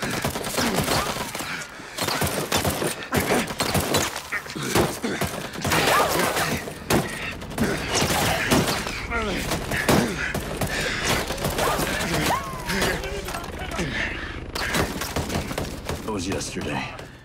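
Gunfire fills a battle in the video game Ghost Recon Breakpoint, with dense rapid bursts and sharp shots crackling almost continuously at high level, and voices speak under and between the firing.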